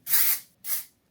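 Two short hissing bursts from an aerosol can of texture spray sprayed onto hair, close by, the first longer and louder than the second.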